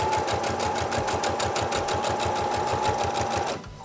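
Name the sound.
sewing machine stitching around the edge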